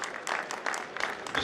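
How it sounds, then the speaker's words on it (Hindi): Audience applause at a reception hall event honoring a former High Court Bar Association president, a steady wash of clapping with some voices mixed in, moderately loud through the short stretch. "आपकी भरपूर तालियां।"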